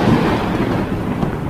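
Thunder in the horror video game Mortal Decay: a brief, loud, broad low rumble that fills the moment with no voices.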